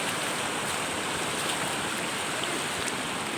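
Strong river current rushing past, a loud dense continuous roar of flowing water heard up close with no pauses.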